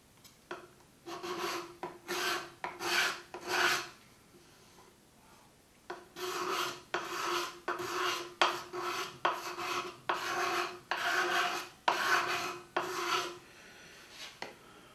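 Steel card scraper truing up the end grain of a wooden box, a run of short rasping strokes in a steady rhythm, a brief pause, then another quick series of close scrapes with no talking.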